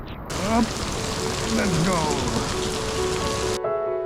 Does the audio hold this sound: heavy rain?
yes